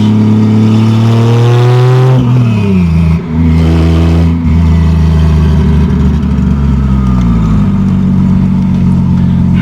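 Turbocharged 2JZ-GE engine in a 1987 Toyota Supra revving hard and loud from close by, pitch climbing steadily, then a brief dip before it pulls up again and holds a high, sustained drone.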